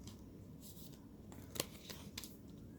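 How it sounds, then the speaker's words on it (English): Soft, quiet riffling and shuffling of tarot cards in the hands, with a few brighter flicks and snaps toward the middle, with no talking. "while I shuffle here"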